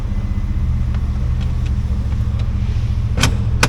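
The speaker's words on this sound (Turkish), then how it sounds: "egzoz harbi 10 numara" An imported Chevrolet Blazer rumbles through its exhaust in a steady, deep, close idle, with a couple of sharp clicks near the end.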